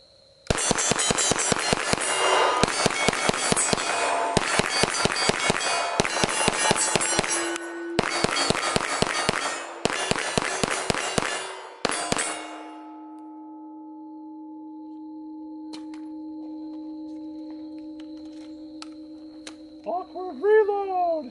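A Kriss Vector fires long strings of rapid automatic shots outdoors, six dense loud bursts in quick succession, followed by quieter mechanical clicks, a lingering hum and a few faint clinks at the end.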